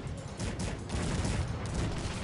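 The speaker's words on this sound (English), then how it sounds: "The grape shot again. The bloody grape shot." Grapeshot cannon fire in the real-time strategy game Cossacks 3, a dense, continuous crackling barrage of many overlapping blasts rolling through the battle without pause.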